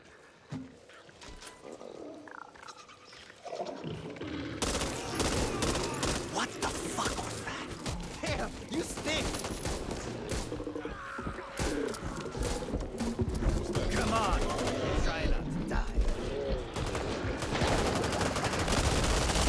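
Shotgun fire in the video game Chronicles of Hoffman, repeated loud blasts over heavy game noise after a quieter opening, with growling creature sounds and a player talking now and then.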